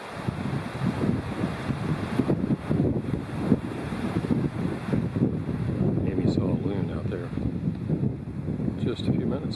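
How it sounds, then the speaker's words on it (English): A strong gust of wind blows at a small lake in the Boundary Waters area of northern Minnesota, a continuous low rumbling roar buffeting the microphone throughout, with faint voices underneath. "Here's the strong gust that kept us from canoeing today."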